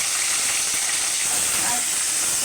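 Okra hits hot oil after popped mustard seeds, making a loud, steady, hissing sizzle close by that holds throughout.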